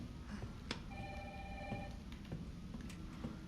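A telephone rings in the Resident Evil 3 Remake game, a repeated electronic ring pattern recurring a few times over steady, fairly loud ambient game background.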